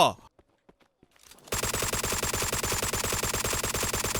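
Rapid automatic gunfire in a free zombie horror video game comes as a dense, even burst of shots that starts abruptly after a second of quiet footsteps and small sounds, loud and continuous to the end.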